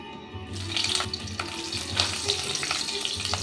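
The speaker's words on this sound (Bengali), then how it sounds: "এবার দেবো একটা ফোড়ন কালো জিরে আর কাঁচা লঙ্কা" Nigella seeds and green chillies frying in oil in a home kitchen while Posto pabda fish is made, giving a steady close sizzle with soft clinks and stirring scrapes throughout, no talk.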